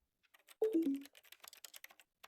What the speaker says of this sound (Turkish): yaptığım zaman klavye tuşu sesi geliyor